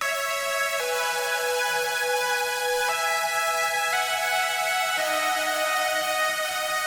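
Synth chords moving through a progression where the top note steps upward, sustained bright stacked tones changing every second or two, steady level, no voices.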